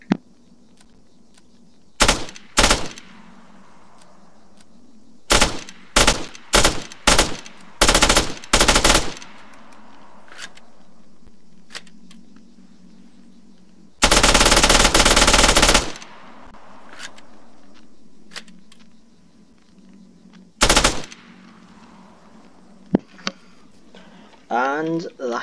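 A 9mm submachine gun with a 30-round magazine, rated at 1,154 rounds per minute, fires in a video game mod: loud short bursts and single shots separated by pauses, including one sustained burst, with faint mechanical clicks between.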